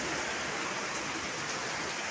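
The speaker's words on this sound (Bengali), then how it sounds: "কি মুষলধারে বৃষ্টি হচ্ছে" Heavy pouring rain during a storm, a dense steady roar of downpour that stays loud and unbroken throughout, with no voices.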